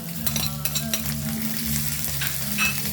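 Tinapa smoked fish being stirred in a frying pan for ginisang monggo: continuous oily sizzling with soft scraping strokes, close and moderately loud, with no voices.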